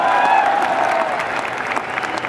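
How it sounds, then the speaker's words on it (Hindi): An audience at a Forever Living Products talk claps together in a dense burst of applause that starts loud and then eases slightly. "के लिए तालियां बजा दो ना नवाज मैम के लिए"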